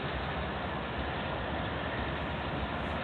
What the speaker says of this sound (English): Yeah, unit gondola train